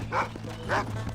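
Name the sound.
dog barking in Red Dead Redemption (video game)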